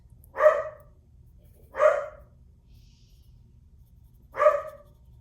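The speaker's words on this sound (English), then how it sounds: "Sorry, my dog has been barking like crazy today." A single dog indoors gives three separate barks, two close together and a third after a longer gap, each sharp and moderately loud over a faint low hum, with no talking.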